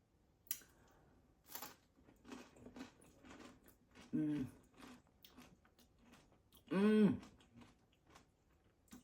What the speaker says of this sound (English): Just the right amount of creaminess and just the right amount of crunch on those seedy crackers.